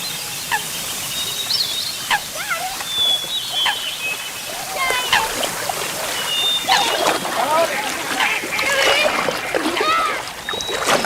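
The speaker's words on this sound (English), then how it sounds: "This is the sound of the Birch family kayaking down the River Dee, North Wales." A family kayaking down the River Dee in North Wales, with paddles splashing and dipping into the water in an irregular rhythm, close by, amid busy outdoor sounds and light rippling water.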